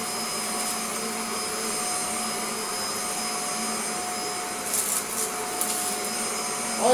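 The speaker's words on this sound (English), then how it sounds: "Should we do some vacuuming?" A Shark NV680UK Power Speed Lift Away vacuum cleaner running after a motor repair, a steady loud whirring drone with a high whine, nearly unchanging throughout, with a few faint clicks near the end and no talking.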